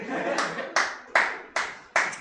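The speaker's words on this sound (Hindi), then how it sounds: "एक और बार ताली बजा।" Hands clap in a slow, steady rhythm, five sharp, close claps spaced well apart, each with a short room echo, in a classroom setting.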